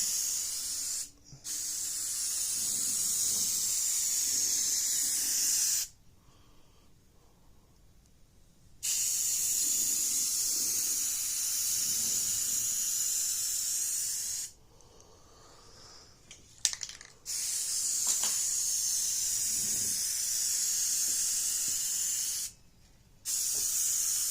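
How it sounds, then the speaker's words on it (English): Close, steady hissing bursts from a spray paint can painting a Jeep Cherokee hatch, several seconds long, broken by short gaps of quiet. "I wouldn't be spray painting it"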